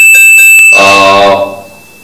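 A bright notification bell sound effect for a subscribe button: a few quick light ticks, then a single ringing chime that decays over about a second, heard alone.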